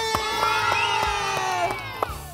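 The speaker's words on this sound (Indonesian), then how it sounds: "Tepuk tangan semuanya bilang ye." A crowd of schoolchildren at a kids' storytelling show shouts and cheers, with sustained high voices in a drawn-out collective call. Several sharp, separate claps punctuate it at a loose, irregular rhythm.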